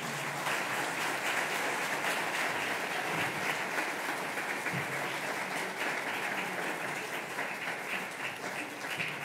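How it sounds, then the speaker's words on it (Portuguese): Sustained applause from a large gathering at a Sunday Mass fills the space, an even roar of clapping that continues for several seconds and tapers slightly at the end. "A estes meninos e meninas damos uma grande salva de palmas."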